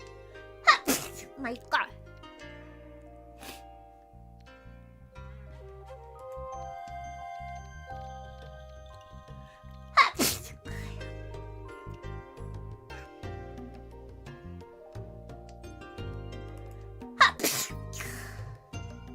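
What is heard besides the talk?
repeated sneezing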